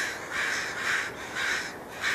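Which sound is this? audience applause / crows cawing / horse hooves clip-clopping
crows cawing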